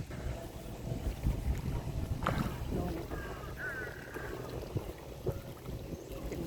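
Wind gusts across open water along a grassy, branch-strewn riverbank, making a steady broadband rush with buffeting on the microphone and a faint voice in the background.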